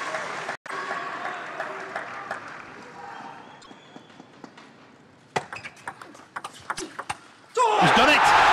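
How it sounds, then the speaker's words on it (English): German players on the bench rise and applaud during the 2012 World Team Table Tennis Championships final, Zhang Jike against Timo Boll. Ball pings and commentary come first, then loud, dense clapping bursts in near the end. "The German players on the bench on their feet applauding"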